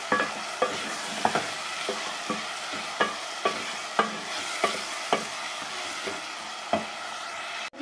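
Tomatoes softening in a hot pan for a mixed vegetable sabzi, stirred with a spoon that scrapes and taps the pan roughly once a second over a steady, fairly loud sizzle, with no talking.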